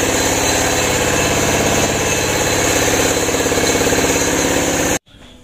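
A freshly overhauled car engine runs at a steady, close idle with an even, throbbing pulse, then cuts off abruptly into near silence.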